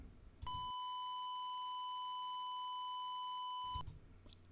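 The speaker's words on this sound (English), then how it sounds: "Now I'm going to play you and show you that same test tone at 8 bits without dither." A steady 1 kHz test tone truncated to 8 bits without dither plays for about three seconds, a pure beep bristling with harmonic quantization distortion, starting and stopping sharply over quiet room noise.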